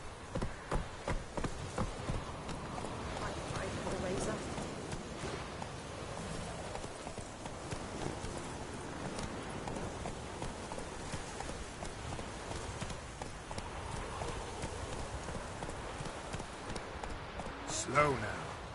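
Horse hooves clip-clop in a steady rapid gallop in the video game Witcher 3, fairly faint and continuous, with a brief louder rustle near the end.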